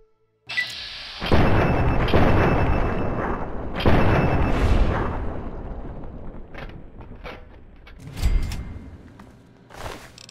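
Heavy gunfire from the video game Fallout 3, loud booming shots with a mechanical clatter, a dense burst over several seconds easing off, then a few scattered later shots.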